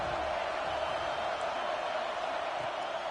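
A football stadium crowd roars in a steady, dense wall of cheering and noise throughout, loud and continuous with no clear breaks.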